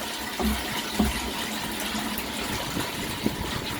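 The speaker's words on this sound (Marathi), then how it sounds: "पाणी यायला सुरुवात झाली" Water gushes steadily from a farm pump pipe in a continuous rushing stream, with a few dull knocks near the start and a low mechanical hum underneath.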